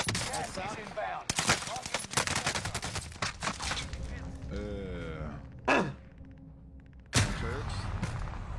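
Video game gunfire in a live-streamed tournament match, with repeated bursts of shots and a couple of sharp loud reports, close and dense, mixed with game sounds and a player's talk.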